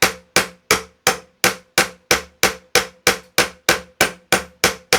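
A steady series of sharp metallic hammer taps from a Warrington hammer, about three per second, each ringing briefly before the next strike, close and loud with no talking.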